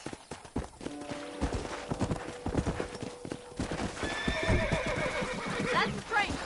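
A horse's hooves clip-clop steadily at close range in Red Dead Redemption, then the horse lets out a loud whinny over the hoofbeats toward the end.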